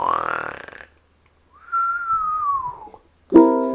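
A voice imitates snoring in a children's cold-themed song: a short nasal whistling sweep, then a longer wavering whistle-like snore tone lasting over a second, ending in a sharper burst; close and fairly loud, with no other talk.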